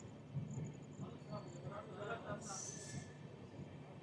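A train rumbles along the tracks at a low, distant level as it slows near a cabin approaching Jamalpur station, with a faint high squeal and a brief burst of hissing near the end.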